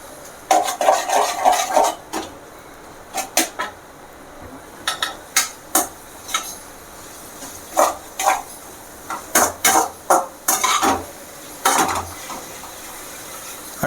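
Onion, tomato and ginger-garlic paste being stirred in a pan for a Tamil crab soup, heard as sharp spatula-on-pan scrapes and clinks in irregular bursts over a faint background, with no talking.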